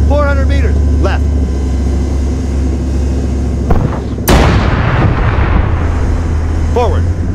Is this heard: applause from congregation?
no